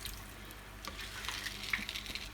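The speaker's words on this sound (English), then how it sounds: "Now I'm going to be adding the sauce from the squid and the sauce or water from the shiitake mushrooms." A soft, steady trickle of liquid as squid sauce and shiitake mushroom soaking water are poured into a pan for Hakka-style red pork, faint and close with a few small splashes.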